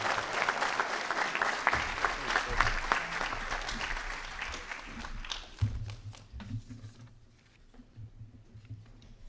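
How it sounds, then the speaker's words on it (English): Audience applause at an Army ROTC commissioning ceremony, a full room clapping steadily for several seconds before thinning out, with low murmuring voices underneath as it fades. "Round of applause."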